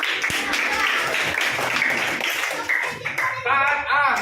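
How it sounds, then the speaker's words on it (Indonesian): Children clap together in an Indonesian classroom, a brisk burst of close handclaps mixed with chatter and young voices calling out. "Kasih tepuk tangan."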